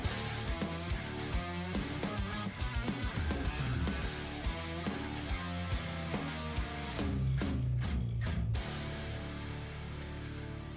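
Heavy metal instrumental: dense distorted guitar riffs over driving drums, with rapid stop-start rhythmic hits and a sustained chord toward the end, loud and continuous with no voices.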